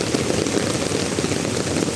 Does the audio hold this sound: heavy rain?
yes